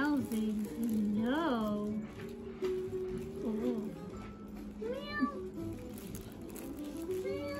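A cat meows at a cat café in Durham, several rising, drawn-out calls spaced across the moment, with people speaking softly nearby and a steady room hum beneath.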